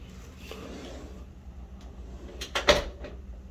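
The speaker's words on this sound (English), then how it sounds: "Across from that is a closet that has a mirror door." A hotel room closet with a mirrored door slides or swings open, with a faint rattle followed by a sharper knock and clatter near the end, close to the microphone.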